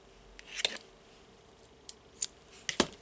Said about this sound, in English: I will cut